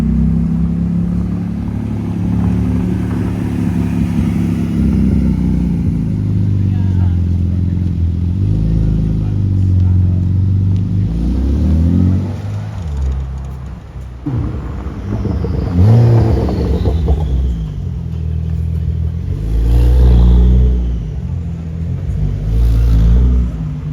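A Porsche GT RS sports car engine rumbles and revs on a city street among other race cars, deep and loud throughout, with sharper rev bursts near the end and occasional voices in the background.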